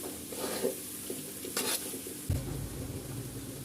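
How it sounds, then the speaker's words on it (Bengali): Mixed vegetables, tomatoes and green chillies stirred in hot oil for vegetable khichuri, with a steady sizzle and scraping stirs throughout and a louder clatter partway through, close and with no talking. "এখন আমি সবজিগুলো দিয়ে দিব।"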